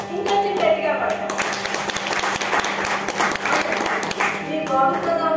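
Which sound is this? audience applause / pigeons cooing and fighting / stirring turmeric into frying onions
audience applause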